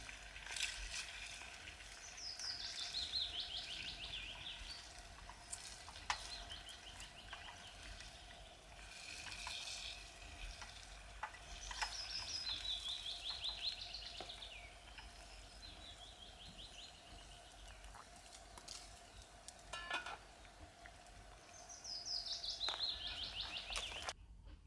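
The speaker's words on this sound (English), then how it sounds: "just listening to the birds" Birds sing in scattered, faint phrases against a quiet outdoor background, with occasional soft ticks and clicks nearby.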